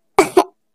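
A cartoon child coughs three times, short and sharp, close to the listener with brief gaps between.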